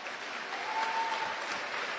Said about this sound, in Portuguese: Dê uma salva de palmas agora em nome de Jesus